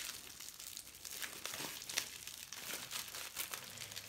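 Plastic wrapping crinkles and crackles as it is handled and cut open with scissors, a steady close rustle of small crisp bursts for several seconds, fairly quiet with no talking.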